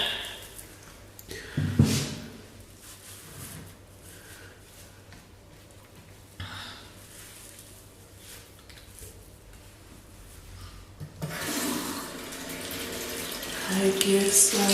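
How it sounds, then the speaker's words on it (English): Tap water running into a bathroom sink while a face mask is rinsed off, a steady close wash that swells louder near the end, with faint splashing. "I'm just gonna wash it off."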